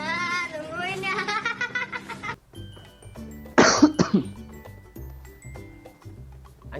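A person coughs in a short, loud burst midway through, over a PUBG Mobile squad match with game sounds and tonal music running before and after.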